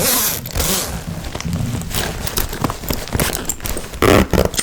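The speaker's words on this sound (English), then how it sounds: "If I pull the zipper right to the end, sometimes it's very hard to get it back" A stuck zipper on a bag is tugged repeatedly up close, making rough, halting rasps and scraping bursts with crinkly handling of the bag, ending in a louder scratchy pull, with no voices.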